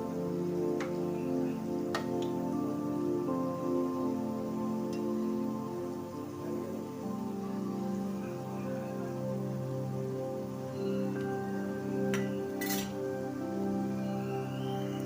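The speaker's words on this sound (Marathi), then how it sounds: "आपण हे गोल्डन ब्राऊन होईपर्यंत तळून घेणार आहे." Gulab jamun frying in hot oil until golden brown, a soft steady bubbling hiss with occasional faint clinks and ticks nearby, fairly quiet and with no talking.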